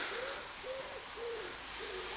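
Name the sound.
birds singing in Japanese garden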